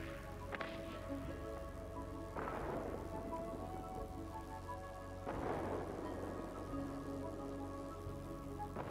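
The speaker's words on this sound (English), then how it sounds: "a line of thunderstorms is approaching." Rain and rolling thunder from a thunderstorm in the World of Warplanes video game: steady rainfall with two deep thunder rumbles swelling in, no voices.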